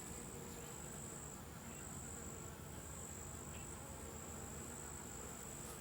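Bees in an opened beehive during an inspection keep up a steady, continuous hum, moderately close, with no talking over it.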